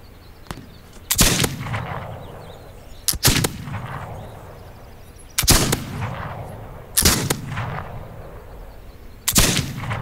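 Five loud, booming shots from a gun in a video game, spaced about two seconds apart, each with a long echoing tail fading into a quiet background.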